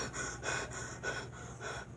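A person imitating hard hyperventilating breathing: five rapid, rhythmic breath bursts of gasping and panting, fairly quiet and close, with no talking.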